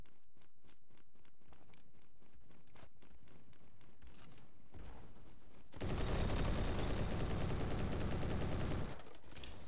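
Gunfire from the online shooter Bad Business, with scattered shots and footstep-like clicks early on, then a loud sustained burst of automatic fire lasting about three seconds before it cuts off.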